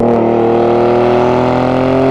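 Car exhaust picked up by an Olympus M51S microphone taped to the rear bumper: a loud, steady, droning engine rumble held close without a break.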